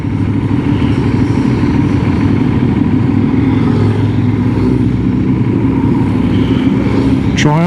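Motorcycles, including Harleys and BMWs, rumble continuously in a crowded outdoor festival, with steady engine drone and idling under background crowd noise and talk.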